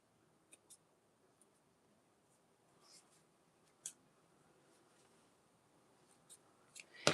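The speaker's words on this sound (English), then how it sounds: "Just trim off some of these little threads so they don't get in my way." Scissors snip loose threads from a fabric cosmetic bag, giving a few faint, sparse clicks spread across a quiet room, with a sharper cut at the end.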